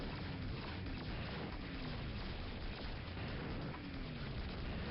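Explosions in the Fury 3 combat game, a dense continuous wash of low rumbling booms and bursts, fairly faint and muffled, with no talk.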